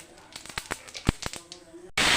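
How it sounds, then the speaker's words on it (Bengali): Cumin seeds tempering in hot oil crack and spit in scattered, sharp, close pops over a quiet background. A sudden loud hiss bursts in at the very end. "এবার দিয়ে দেব জিরে ফোড়ন"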